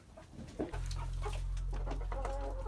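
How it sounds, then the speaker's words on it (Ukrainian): An eight-month-old Amrox hen that has just left her nest gives a few soft clucks near the end, over a steady low hum that starts shortly after the beginning. "наша молода курочка, якраз вийшла з гнізда"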